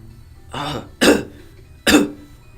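A voice imitates coughing: three harsh, breathy bursts, the last two louder and sharper, spaced about a second apart.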